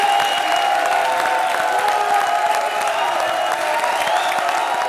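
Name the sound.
audience clapping applause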